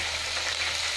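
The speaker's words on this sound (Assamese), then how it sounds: "অলৰেডি মই ইয়াতে পিঁয়াজ আৰু নহৰু দিয়ে দিছোঁ। এইখিনি একেলগে ফ্ৰাই কৰি লৈছোঁ।" Onion and garlic fry together in a pan with a steady, close, continuous sizzle and a fine crackle.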